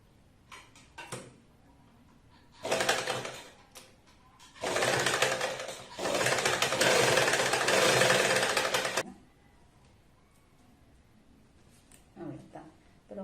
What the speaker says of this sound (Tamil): இப்போ இந்த லேஸ் இருக்கு தானே, இந்த லேஸையே நான் தைக்கிறேன்.